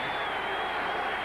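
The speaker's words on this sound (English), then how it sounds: "this Denver crowd exhorting their defense to hold him" A Denver football stadium crowd roaring to urge on the home defense, a loud, steady, broad wash of cheering voices that fills the space without breaks.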